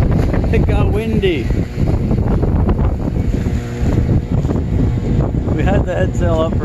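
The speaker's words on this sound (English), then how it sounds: "Motoring, it got windy." Wind buffets a sailboat motoring along in choppy conditions, loud continuous rushing and microphone gusts mixed with engine and water noise, with people talking over it throughout.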